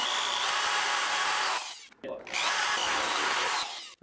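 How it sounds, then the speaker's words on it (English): A power drill whines loudly through layers of plywood in two bursts, with a brief pause between them as the bit stops. "Now we can drill corresponding holes into the two layers of plywood"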